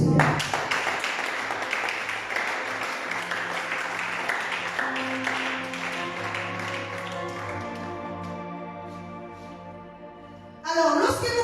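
Church congregation applauding and acclaiming the Lord: a sustained wash of clapping and cheering in a reverberant hall, with sung or held tones rising beneath it and fading out, then a brief fresh burst at the end.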